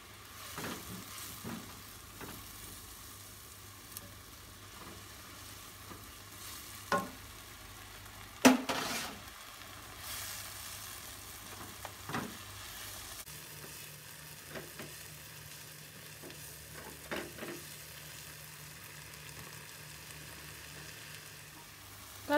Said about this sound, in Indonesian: Lalu masukkan bumbu yang sudah dihaluskan dan ditumis sampai matang.